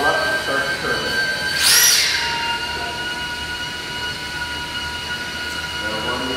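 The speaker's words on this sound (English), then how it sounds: "a quick throttle up and start the turbine" A model jet turbine on a drone starts up, letting out a sharp, shrill whine burst near the start over a steady tonal hum and whirring fans, then settling into a constant drone.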